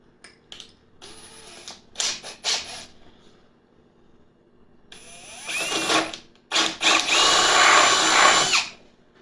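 Power drill boring out a hole in a Takahashi EM-200 telescope riser, sounding in several loud whining bursts with pauses between, the longest and fullest run near the end.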